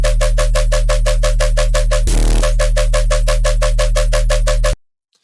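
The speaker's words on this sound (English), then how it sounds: "So I'll quickly just play the bass lines to you first." A heavy, buzzing distorted sine-wave synth bass for jump-up drum and bass, with no sidechain, pulses in a fast, even rhythm, loud and close, with a brief noisy break midway before cutting off abruptly.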